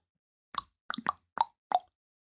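Five hollow, popping cheek taps, the kind once used as an ancient advertising signal, land in an uneven rhythm, close and crisp, with no talk.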